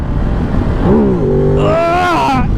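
Ducati Desert X motorcycle accelerating hard in third gear for a wheelie, a loud close engine note climbing sharply in pitch, dipping briefly, then surging again over wind noise.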